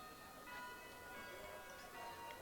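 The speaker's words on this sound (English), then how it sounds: "The bell for break rang." A school break bell rings in a story-driven video game, a faint, sustained tonal chime that hangs quietly over low background sound for a couple of seconds.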